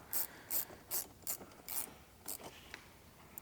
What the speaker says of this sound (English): and we can tighten all of this down